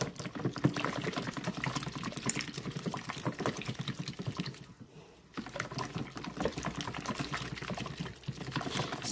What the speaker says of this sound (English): I'm just going to whisk this to combine the yolks and the whites together.